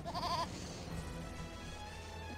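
A goat in the video game Eternal Sonata bleats in a short wavering cry at the start, followed by steady game background music.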